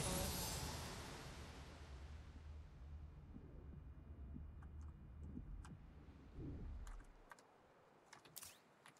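Low rumbling engine of a vehicle in Fortnite, loud at the start and then settling into a steady drone that fades out near the end, with a few faint clicks over it.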